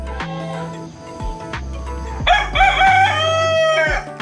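A farm rooster crows loudly and close by in a long, rising cock-a-doodle-doo, with other poultry clucking and low background noise around it and no talk.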